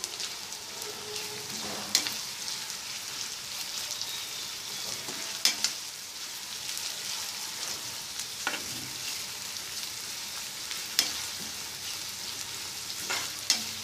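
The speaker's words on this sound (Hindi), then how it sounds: "अब हम इसमें प्याज डाल देते हैं। इसको हम मिक्स कर लेंगे।" Onions fry over a medium flame for a Bengali-style rohu fish curry, a soft continuous sizzle broken by periodic scraping stirs of a spoon in the pan.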